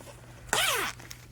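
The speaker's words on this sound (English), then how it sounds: "Okay, we now have a pillowcase with a zipper." A zipper on a freshly sewn pillowcase is pulled in one quick, close zip lasting under half a second, then quiet room tone.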